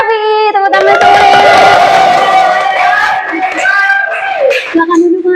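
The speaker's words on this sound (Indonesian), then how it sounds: "Mari kita sambut gestar kita, Mas Imam Syafi. Tepuk tangan dulu." A podcast studio audience welcomes a guest with loud cheering and whoops over clapping, voices shouting throughout in a lively burst.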